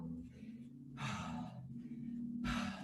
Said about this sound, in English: I'm sure you can hear me doing my deep breathing from here.